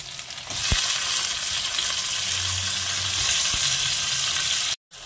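Green chili and tomato hit hot oil in a frying pan while chicken liver cooks, giving a steady, loud sizzle with a few soft clinks and stirring scrapes, then a brief cut near the end.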